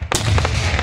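Fireworks burst at a large outdoor fireworks show at a farm, heard from a swimming pool nearby: one loud sharp boom followed by a rumbling, crackling tail that fills the short moment.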